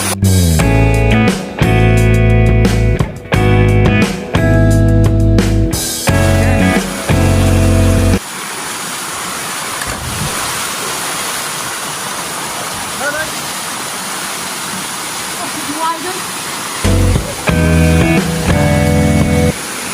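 Clear, cold water rushing along a clean river on land owned by the Mariveles Aeta Magbukon tribe: a steady, loud, broadband wash between stretches of music and voices at the start and end.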